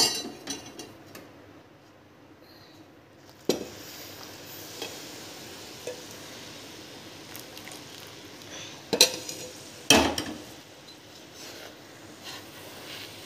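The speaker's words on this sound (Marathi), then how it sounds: "आता हे मी व्यवस्थित मिक्स करते" A spoon works through a mawa besan barfi mixture in a pan, giving quiet scraping with occasional sharp metallic clinks and knocks against the pan, spaced irregularly over a soft background hush.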